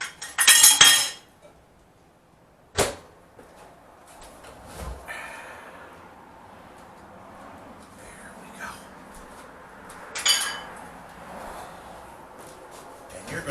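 Utensils scrape and clink against a bowl as thick apple fritter batter with melted butter is stirred, with a few sharper knocks and some quiet rustling in between.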